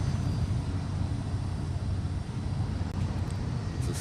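Airbus A380 airliner in Hawaiian Airlines Honu livery at Honolulu airport, a steady, loud, broadband engine roar that holds level throughout with no talk.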